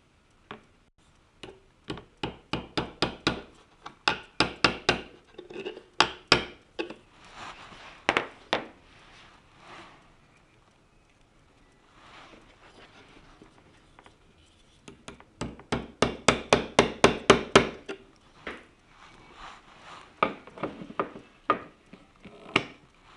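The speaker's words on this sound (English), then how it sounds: "Now I like to use some pliers so I don't whack my fingers as I'm nailing these in." Hammer blows drive small nails into edging on sheet goods, with pliers holding each nail: close, sharp taps in quick bursts of several strikes, separated by pauses, with no talking.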